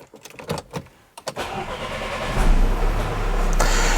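An Audi that had been dead cranks and fires up after a few starter clicks, catching into a steady idle that grows louder and holds, heard up close with no talking.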